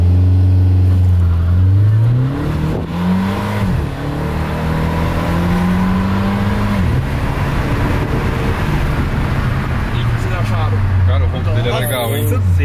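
Fiat Abarth car launching and accelerating, its engine loud and close, rising in pitch through several gear shifts with brief drops between them, while people talk over the engine noise.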